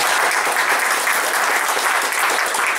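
A room full of meetup attendees claps hard and continuously, a dense, loud, steady wash of applause with no talking over it.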